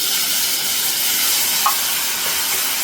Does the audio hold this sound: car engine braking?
no